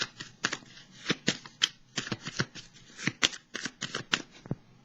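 A deck of tarot cards being shuffled by hand, crisp riffling bursts and soft slaps coming in quick irregular clusters, close and clear with no talk.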